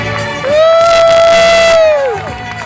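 A big crowd in Sweden roars and cheers loudly, swelling in the middle, while one long sustained shouted note rings above the noise.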